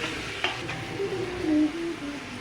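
Marinated chicken pieces are tipped into hot oil where onions were sautéed, producing a close, continuous sizzle with a few clinks of utensils against the pan, no voices.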